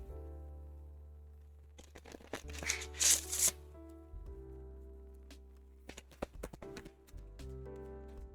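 Oracle cards are shuffled close by in quick bursts of riffling and tapping, with the loudest flurry partway through and lighter taps of the deck afterward over a low background hum.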